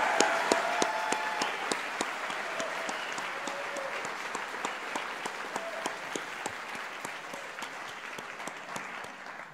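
Audience applause thanks Logan Robbins at a university graduation ceremony for the Faculties of Computer Science and Science, a steady, dense wash of clapping from a large crowd sustained at even volume, with sharper individual claps standing out near the microphone.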